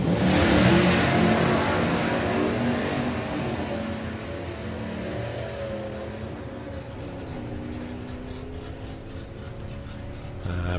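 A Camaro hot rod accelerates down a drag strip, its engine loud and close at the start, then holding a sustained revving roar that slowly fades as the car pulls away.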